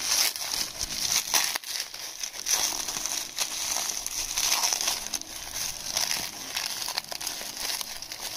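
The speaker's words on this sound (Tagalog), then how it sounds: "Bubble wrap, sobrang mahirap siyang open kailangan pala ng gunting." A bubble wrap package tears and crinkles open continuously by hand, giving a dense, close, steady plastic rustle with brief crackly bursts throughout.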